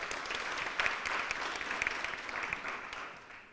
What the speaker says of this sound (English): Can we give our MC another round of applause?